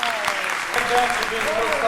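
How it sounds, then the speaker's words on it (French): An audience applauds in a steady, dense patter of clapping for about two seconds, with a few voices calling out over it. "Un tonnerre d'applaudissements, Mansart."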